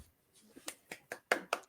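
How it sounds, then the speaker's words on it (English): A few sharp claps ring out in a loose, uneven rhythm, about five distinct hits, fairly quiet and close. "Ooh, wow. More clapping."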